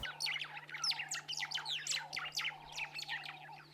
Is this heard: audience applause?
no